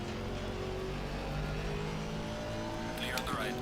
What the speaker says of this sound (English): Faster car is approaching.